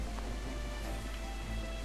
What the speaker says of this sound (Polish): przy deszczu jakoś mam wrażenie, że ta gra jest głośniejsza